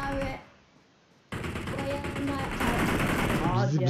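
Gunfire in the online battle game PUBG rattles in rapid automatic bursts, loud and close, with players talking over the shooting and a brief quiet gap before the firing resumes.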